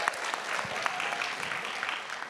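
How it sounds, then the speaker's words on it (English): Brief, moderately loud audience applause rings out for four educators at a school board public speaking contest, an even patter of many hands clapping at once. "So applause, please, to those four educators."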